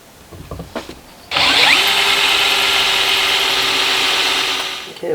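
A power drill bores holes in a part for a motorised spear valve on a four-nozzle off-grid micro hydro turbine. A few brief knocks come first, then a loud, steady, close whine holds for about four seconds and winds down, with no talk.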